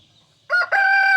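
A guard rooster crows loudly and close by on a Filipino backyard farm, one full crow with a brief break near the start, set against a quiet background.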